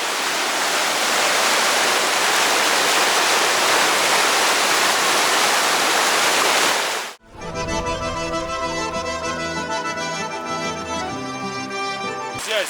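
The Assa, a fast mountain river in Ingushetia, roars in a steady, loud, dense rush of water for about seven seconds before music abruptly takes over.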